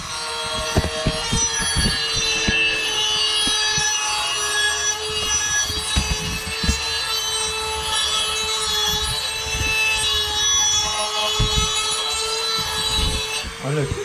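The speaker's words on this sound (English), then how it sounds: "My dad's gonna be sharpening now the blades." A lawn mower deck blade is sharpened with a continuous grinding whine, broken by repeated scraping knocks and strokes of metal on the grinder, close and steady throughout.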